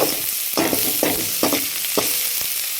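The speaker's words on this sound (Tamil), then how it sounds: "இது கொஞ்சம் பச்சை வாசம் போக நம்ம வதக்கிவிடணும்" Meal maker gravy masala sautéing in a pan, with steady frying sizzle and repeated spoon stirs scraping through it at a regular pace, close and fairly loud.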